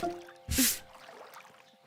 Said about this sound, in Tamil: டூக்கி, நீயும் உன்னோட டெடிய தொவ.